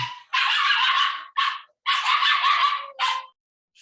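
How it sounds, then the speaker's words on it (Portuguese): A dog yelps and barks in four sharp, high-pitched bursts after its tail is stepped on, close and loud with brief gaps between cries. "Pisaram no rabo do cachorro."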